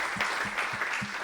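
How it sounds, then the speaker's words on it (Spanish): A church congregation claps for the Lord with a few rhythmic claps spaced evenly over a soft crowd background. "Denle un aplauso al Señor si está contento porque el Señor le ha perdonado."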